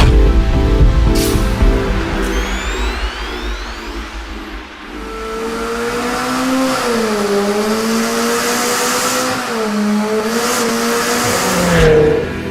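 A 2018 McLaren 720S supercar engine revs loudly and up close. Its pitch climbs and falls in sweeping swells, with sharp throttle blips near the end, and no one speaks over it.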